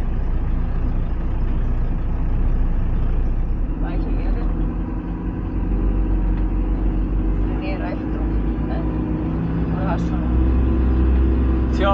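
A car driving off-road across a ploughed field track near Vashlovani National Park gives a steady, loud, low engine rumble with occasional knocks and rattles over bumps, and people talk inside.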